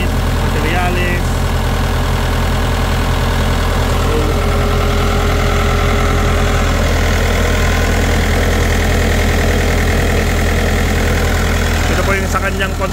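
A Hitachi EX100 excavator engine idles close by in a repair shop, a loud, steady low rumble with knocking pulses throughout, and brief higher mechanical sounds near the start and end.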